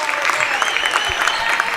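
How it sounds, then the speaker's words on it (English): Crowd applause at a Macomb Bomber basketball game, a steady burst of clapping lasting a couple of seconds with faint arena noise underneath. "Crowd gives him an applause, and Elby with 4 tonight."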